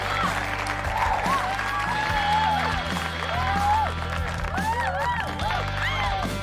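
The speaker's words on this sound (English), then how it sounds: "It deserves some claps." Continuous applause with clapping and cheering, dense and fairly loud, runs under steady background music with tonal sweeps, played as a celebratory sound effect.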